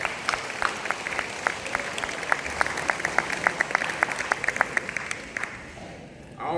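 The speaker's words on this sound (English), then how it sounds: "Let's give them another round of applause." A room of people applauds a group of employees at a meeting held in a school, steady clapping with sharp individual claps standing out, fading near the end.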